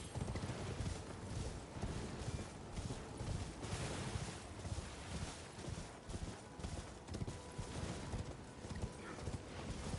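A horse gallops in the video game Elden Ring, a rapid steady clip-clop of hooves that runs without a break for the whole stretch, close and full, with a faint game ambience underneath and no talking.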